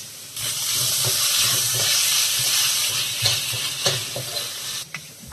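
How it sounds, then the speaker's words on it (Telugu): Onions, green chillies, radish and ginger garlic paste fry in a hot pan with a loud, steady sizzle and hiss close by. Stirring scrapes sound now and then, and no one speaks. "ఒక స్పూన్ అల్లం వెల్లుల్లి పేస్ట్ వేసుకుందామండి."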